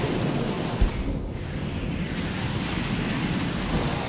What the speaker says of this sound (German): Probier ich doch mal die Windfaust, die was bringt.